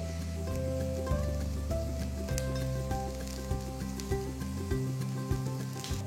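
Onions sizzling in a pan on a tawa until golden brown while making spot idli, a steady soft crackle and hiss throughout, with light clinks and scraping over a faint background hum.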